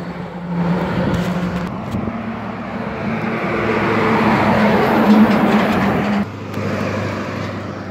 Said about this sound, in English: And the dump truck 2009 Kenworth